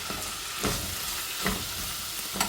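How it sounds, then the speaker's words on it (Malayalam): Ginger and garlic frying in a pan, a constant soft sizzle broken by three scraping strokes of a stirring spoon at even intervals, quiet and close, no voices. "ഇഞ്ചി വെളുത്തുള്ളി ഒന്ന് നന്നായി ഇളക്കി കൊടുത്താൽ മതി"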